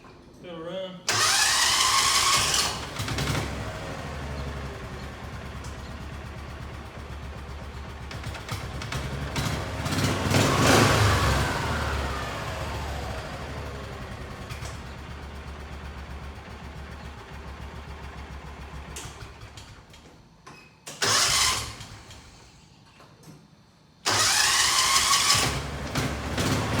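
Kawasaki Mule 610 utility vehicle engine, freshly fitted with a replacement starter, cranks in short bursts and catches, then runs at a steady mid-pitched idle, close and loud throughout, with a voice talking over parts of it.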